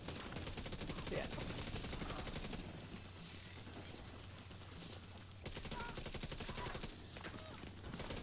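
Automatic gunfire in The Division 2, a sustained rattling barrage of rapid shots that carries on throughout at a fairly distant, low level, easing briefly midway before resuming, with faint talk underneath.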